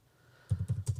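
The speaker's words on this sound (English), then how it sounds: "Becca's typing." Becca typing on a computer keyboard: after a quiet start, a quick run of about six close, soft key clicks in an uneven rhythm, no talking.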